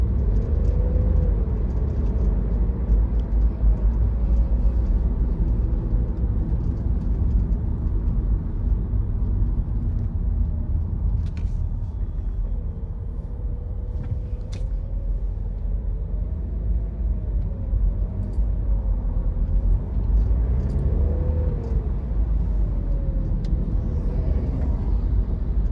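Steady low road rumble from inside a car moving slowly in heavy traffic through Pflugerville toward Round Rock, Texas, continuous and even with faint passing-vehicle swells and no talking.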